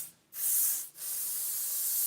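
Two close hissing bursts of house fragrance spray, a short blast followed after a brief break by a longer steady one, loud and alone.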